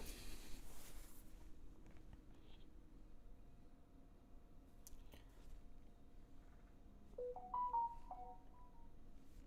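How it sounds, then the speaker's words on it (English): A phone's text message alert chimes faintly near the end as a few short bright tones, over a quiet room hum with no talking. "Hey, I got a text message there."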